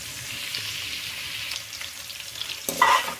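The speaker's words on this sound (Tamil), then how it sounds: "போட்டு நல்லா ஃப்ரை பண்ணிக்கலாம், கொஞ்சம் பொன்னிறமாக மாற வரைக்கும்." Onions frying in hot oil for a squid gravy give a steady, close sizzle with soft crackles throughout, and a louder burst of stirring and spitting near the end. No voices are heard.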